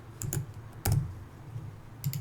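Dimensions being typed on a computer keyboard while drawing rooms in AiHouse design software, heard as a few sparse, close key clicks, with one sharper press near the middle.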